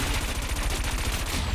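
Rapid, continuous cannon fire from a futuristic racing craft in the video game Wipeout 2048, a dense stream of loud percussive shots over racing noise.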